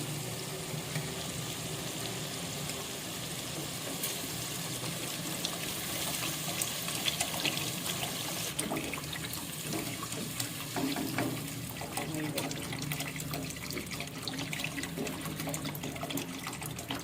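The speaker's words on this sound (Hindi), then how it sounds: "अब हम इसमें अपना पानी शामिल करेंगे।" Water poured into a pot of fried masala for matar pulao, a steady continuous splashing and trickling that runs unbroken, close by and fairly quiet.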